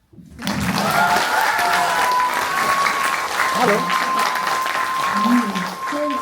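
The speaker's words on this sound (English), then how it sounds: "You can clap." A theatre audience at a public show in Paris breaks into clapping that rises quickly and stays as a dense, even wash for several seconds, with a few voices and a sustained tone briefly audible beneath it.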